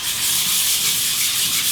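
Steady hand sanding across a sealed finish with a worn, heavily used sheet of 220 grit sandpaper, a continuous close, loud rubbing hiss with slight back-and-forth swells and no talking.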